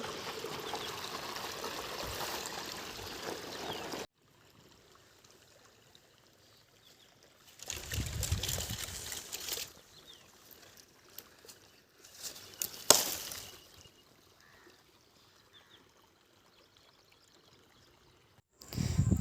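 Water from a pump motor on a farm gushes steadily at first, then drops away to near quiet, followed by intermittent bursts of splashing and flowing, close by.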